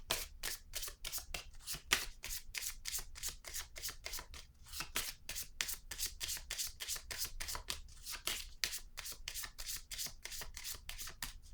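Tarot cards are shuffled in a fast, even riffling rhythm of crisp, close card slaps that run on without stopping, with no talking.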